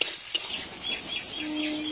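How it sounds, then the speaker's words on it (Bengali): Onion and tomato frying together in a pan, a soft sizzle with a few metallic scrapes and clinks of a utensil stirring against the pan. "এবার টমেটো আর পেঁয়াজটাকে ভালো করে আগে কষিয়ে নিই।"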